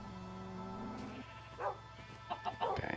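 Minecraft sheep bleat in an underground barn and chicken coop, a few short wavering calls rising over a quiet background with a low steady drone.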